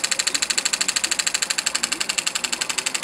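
Elmer's #8 Scotty model steam engine running on just under 5 PSI of air, giving a fast, steady, even chuff-like puffing rhythm that stays close and alone throughout.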